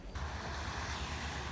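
Sea waves wash onto the beach at Corralejo, Fuerteventura, a steady broadband rush of surf mixed with wind noise on the microphone, continuous and fairly close throughout.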